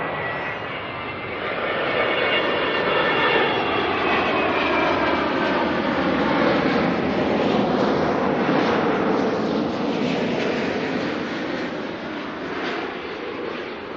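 A Boeing 787 Dreamliner arriving from Hong Kong to land at Auckland Airport, its jet engines roaring steadily and loud for the whole stretch, with a gradual swell and fade as it passes; no talk.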